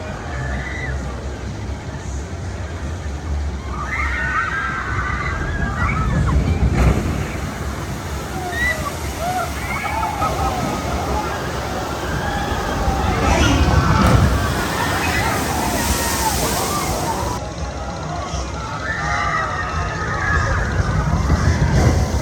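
Water rushes and splashes around the Whitewater Landing water ride at Dorney Park, a steady roar of churning water with surging swells, mixed with distant crowd chatter and voices throughout.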